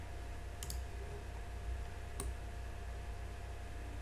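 Two sharp, isolated clicks from computer keys being pressed during Blender modelling work, over a steady low electrical hum, with no talking.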